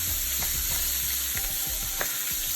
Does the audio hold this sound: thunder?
no